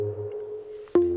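Bright future bass synth pluck made in Serum, a sustained tonal note followed by a sharp, louder attack near the end that rings on steadily, heard alone with no talk.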